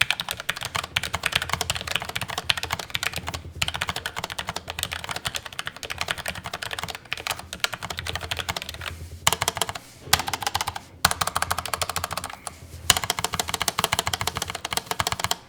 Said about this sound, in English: The browns are very, very quiet as opposed to normal Cherry MX browns